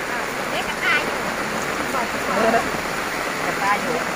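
Steady rain patters down at an outdoor Thai market, a continuous hiss of falling water close by, with faint voices and brief chirpy sounds poking through.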